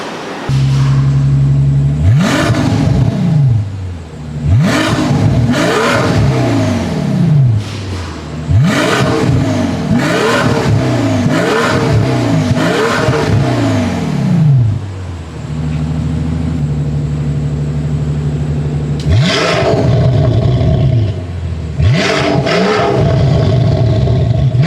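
A BMW M760i with its V12 engine and a new exhaust system revs repeatedly, sending out sharp, loud bursts that rise and fall over a steady idle, with several close-spaced blips and a pause before the final pair.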